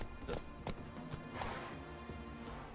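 Horses clip-clop near the horse racing stands in a video game: scattered hoof strikes, soft and fairly distant, over a low steady background.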